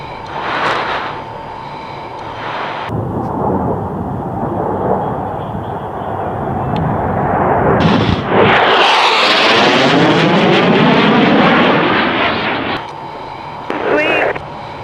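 An F-16 Viper fighter jet makes a low hot pass at an air show demo, a rumbling approach swelling into a loud, sweeping jet roar that peaks midway and fades, with voices around it.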